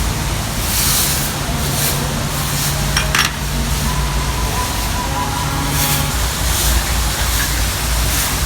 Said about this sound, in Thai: ด้านในถ้ ำนี่ได้ยินเสียงน้ำตกนะเย็นสบายเลย